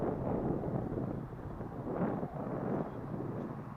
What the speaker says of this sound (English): But this is very windy.